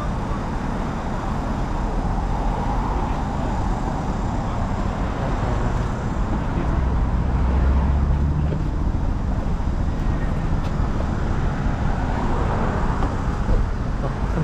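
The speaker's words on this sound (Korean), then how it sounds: "구형 포르쉐가 오고 있습니다." An old Porsche rolls closer through steady traffic and wind rumble, its engine a low continuous drone that swells slightly midway before holding, fairly loud with no clear voices.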